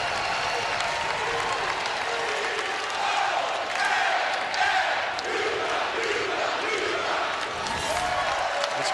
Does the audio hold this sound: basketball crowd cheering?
yes